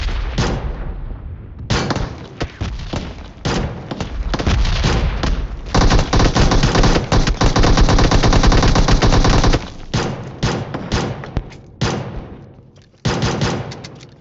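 Rapid automatic gunfire from a PUBG Mobile match, loud and near, coming in long sustained bursts separated by brief gaps across the whole stretch.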